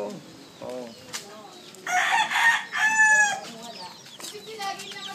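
Chickens clucking close by, with a rooster crow standing out in the middle, among mother hens and chicks at a home, while people talk in the background.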